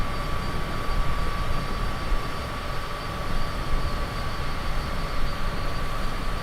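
A Cessna's engine drones in a flight simulator game, a loud, steady broadband roar with a constant whining tone on top, held evenly with no voices.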